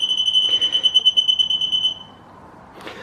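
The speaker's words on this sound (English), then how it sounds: "now I'm fairly close, and the beeps are almost continuous" A Rostra 250-5110 backup parking sensor beeps rapidly in a near-continuous high-pitched tone for about two seconds, then stops, followed by a short faint rustle.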